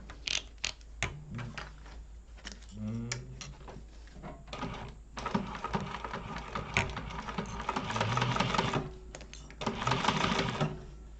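A sewing machine top stitches a fabric Lemonza wallet in quick rattling bursts, starting and stopping at first, then running longer, faint and close with small clicks between runs.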